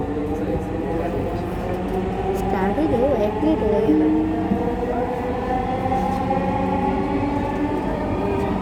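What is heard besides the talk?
metro rail train running between stations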